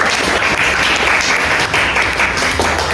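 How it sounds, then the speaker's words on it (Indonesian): Steady, dense applause from a classroom audience for a student group presenting on the constitution, continuous and loud across the whole stretch with no talking over it. "Boleh tepuk tangan untuk kelompok 3"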